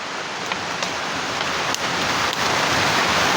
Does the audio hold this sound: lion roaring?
no